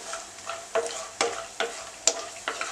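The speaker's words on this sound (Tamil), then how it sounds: "முந்திரியும் பாதாமும் வந்து நம்ம வறுத்துக்கலாம்." Cashews and almonds roasting in hot ghee, with sharp scraping and stirring strokes of a spoon against the pan about every half second over a soft, steady sizzle, close up and with no talking.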